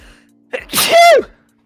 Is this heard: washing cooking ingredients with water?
no